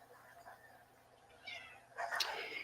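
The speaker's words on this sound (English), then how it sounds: "You hear my kitty, sorry." A house cat meows a couple of times, faint and close, with a sharper, louder call near the end over quiet room background.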